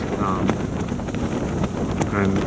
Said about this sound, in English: It's the katabatic winds blowing out of the south